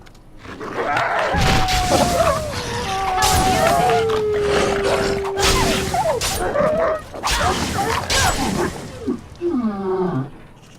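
A companion dog in the fantasy video game Dragon Age Origins yelps, whines and growls amid combat, with a long whimper near the end, mixed with fight noises while a player talks over the game.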